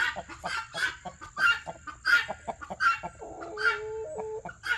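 Cochin chickens cluck repeatedly at close range, a rhythmic series of short calls with a few brief louder squawks, over quiet background noise.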